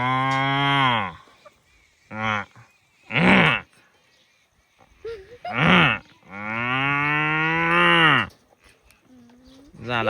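A man imitates a buffalo's call outdoors on a farm, giving several long, loud, drawn-out lowing moos separated by short pauses, with one or two brief breathy grunts between them.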